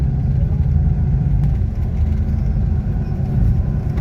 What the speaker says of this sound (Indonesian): Ini bus Handoyo